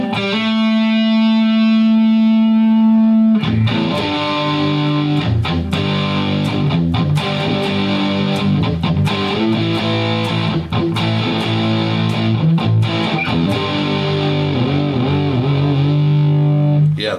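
Distorted electric guitar on a Jackson Soloist pushed close to feedback: a long sustained droning note, then a burst of rhythmic gritty riffing with choppy attacks and a howling, singing sustain at the end, loud and alone.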